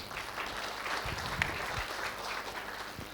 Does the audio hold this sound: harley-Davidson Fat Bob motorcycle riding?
no